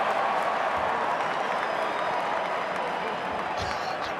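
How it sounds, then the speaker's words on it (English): Crowd and NRL players applauding at a rugby league match, the Indigenous All Stars v NRL All Stars game, a steady wash of clapping and crowd noise with commentary talking over it throughout. "NRL players are starting to applaud."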